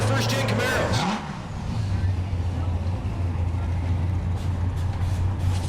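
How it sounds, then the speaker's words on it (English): First-generation Chevrolet Camaros, one orange and one blue, drag race at a Kansas dragstrip, with a loud engine roar sweeping past early, then a sustained drone as the cars pull away, and an announcer talking over it. "How about a couple of first-gen Camaros?"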